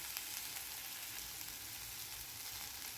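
Ground spices with garam masala and turmeric sautéing in a pan while quinoa is prepared, a steady soft sizzle and crackle holding at an even level throughout, fairly faint and with no voices.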